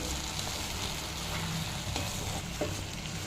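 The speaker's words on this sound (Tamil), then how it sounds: "இப்போ லைட்டாக வதக்கி விட்டுருங்க நல்லா அடியிலேருந்து மேலே எடுத்து விட்டிங்கன்னா சீக்கிரமாக அது வதங்கிடும்" Sorrel leaves sautéing in hot oil as they are stirred and turned from the bottom of the pan, a constant close sizzle broken by soft scraping stirs; nobody speaks.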